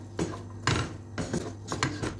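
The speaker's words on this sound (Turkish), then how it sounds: "Önce bir soğanımızı, sarımsağımızı beraber kavuralım." Onions and garlic sautéed in a pan, heard as a few rhythmic clatters and scrapes of a utensil against the cookware in quick bursts, close up and without talking.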